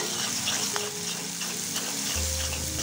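An egg fries and is stirred in a pan for a breakfast pasta noodle dish, giving a steady close sizzle with soft scraping; a low hum comes in near the end.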